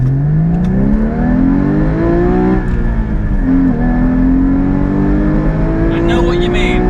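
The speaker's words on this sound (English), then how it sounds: "Let's see if we can just get some acceleration on this car." A Porsche with a manual gearbox accelerates in a racing video game, its engine note climbing steadily in pitch, dipping at a gear change, then rising again, loud and close throughout.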